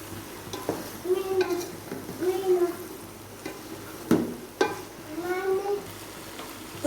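Okra and onions stirred into masala in a pan: repeated scraping stirs with a soft sizzle underneath, and a faint voice murmurs in the background.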